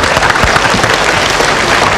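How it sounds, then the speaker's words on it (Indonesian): A brief, loud burst of audience clapping at a population-themed community event, a dense, continuous patter filling the moment. "Kita beri tepuk tangan yang meriah"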